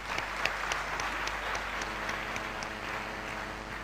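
Conference audience at a management conclave giving a sustained round of applause, steady dense clapping with a few sharper claps near the start, fairly distant in a large hall.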